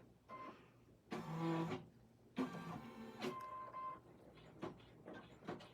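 An embroidery machine tacks down appliqué on a sports ball bag tag, stitching in loud bursts of rapid mechanical clatter. Short pauses and softer ticking separate the bursts.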